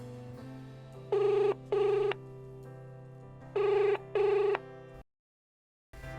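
Telephone ringback tone heard through a handset during an outgoing call, two pairs of short buzzy double rings separated by pauses over a low steady hum, then silence.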